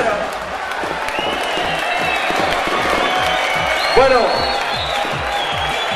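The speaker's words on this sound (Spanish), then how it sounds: "El aplauso más grande para vosotros." Audience at a live show in Spain applauds and cheers. Dense, continuous clapping and crowd noise run throughout, with a rising whoop around the middle and a voice speaking briefly over it.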